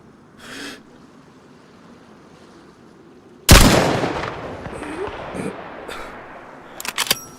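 A sudden loud gunshot in DayZ, then a ringing, decaying tail and a few scattered later shots, with sparse quiet before.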